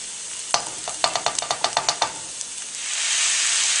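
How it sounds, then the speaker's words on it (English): Onions sautéing in a pan: a quick run of about a dozen sharp clicks and taps from stirring, then a broad, steady hiss of sizzling oil that swells and holds to the end, close by with no voices. "we're going to start by sauteing the onions for about 2 minutes"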